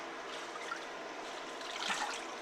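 Water trickling and dripping from kale lifted out of an ultrasonic fruit and vegetable washer, a faint, close, continuous patter with a slightly fuller splash toward the end.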